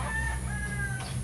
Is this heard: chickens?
yes